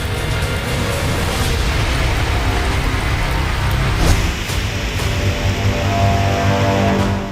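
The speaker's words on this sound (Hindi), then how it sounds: "और कहीं मूसलाधार बारिश।" Torrential monsoon rain pours down in a dense, loud, steady hiss, with a few brief heavier bursts along the way.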